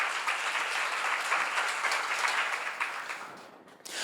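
A congregation at a church seminar on the Book of Daniel breaks into sustained applause, full and steady before thinning out and briefly dropping away near the end.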